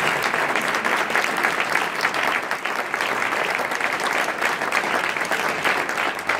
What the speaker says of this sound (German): Bitte einen kräftigen Applaus.